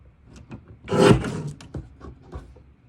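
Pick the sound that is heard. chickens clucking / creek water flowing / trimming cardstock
trimming cardstock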